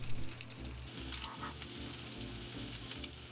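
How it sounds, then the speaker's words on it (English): Italian sausage from a one-pound package browns in about a teaspoon of olive oil in a pan, giving a steady, dense sizzle and crackle that carries on alone with no talking. "I'm going to put about a teaspoon of olive oil in it just to get our Italian sausage browning."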